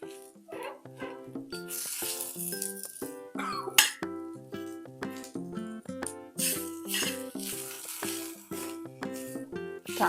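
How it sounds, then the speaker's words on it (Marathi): Coriander seeds and garam masala spices dry-roast in a hot pan for egg curry, a soft scraping rattle under a louder rhythmic melody. "हे गरम मसाले आपल्याला भाजून घ्यायचे आहेत"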